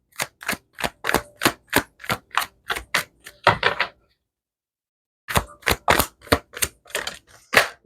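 Tarot cards are shuffled and flipped in a crisp, close series of sharp snaps and slaps at a quick even rhythm, pausing briefly in silence before another run of snappy card sounds.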